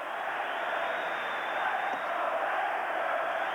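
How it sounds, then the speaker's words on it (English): A hockey crowd at Madison Square Garden during a 1988 Capitals vs. Rangers game makes a steady, distant roar of cheering, with no distinct claps or calls standing out. "The crowd is alive at the Garden again."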